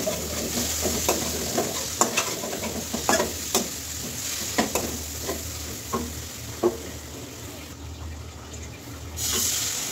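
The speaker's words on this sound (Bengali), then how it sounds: "একটু পরপরই কিন্তু নেড়ে চেড়ে দিতে হবে, তা নাহলে তলায় আবার লেগে যেতে পারে।" Khichuri frying in a pot while being stirred, with a steady sizzle and a series of sharp spoon scrapes and knocks at irregular intervals, close and fairly loud.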